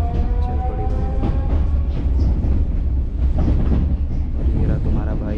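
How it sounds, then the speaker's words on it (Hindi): A metro train runs through Kazan, a loud steady rumble with rhythmic clacking of wheels and a faint high whine, close and continuous throughout. "train is running,"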